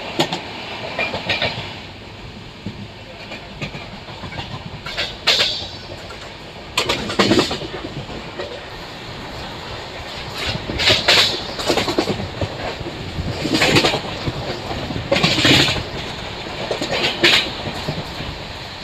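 Aboard the 12805 Janmabhoomi Superfast Express as it runs through Rayanagudem station without stopping, a steady loud rumble of wheels on rail carries rhythmic clickety-clack beats and occasional brighter rattles.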